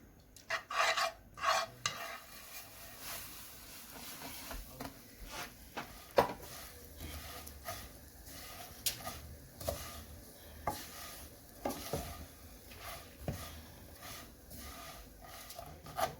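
Vermicelli stirs and scrapes in hot ghee in a pan, with soft sizzling under irregular rasping strokes of the spoon, close and moderately quiet.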